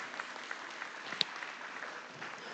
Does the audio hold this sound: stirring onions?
no